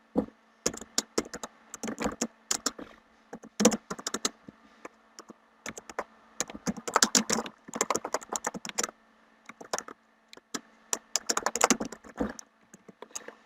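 A command is typed on a computer keyboard while playing Minecraft: crisp, close key clicks come in quick bursts with short pauses between them.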